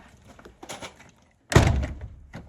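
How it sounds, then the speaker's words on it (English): A few light knocks and shuffles, then a solid thunk as a heavy sliding barn door slides shut, followed by a brief rattle. "Let's see if the door closes."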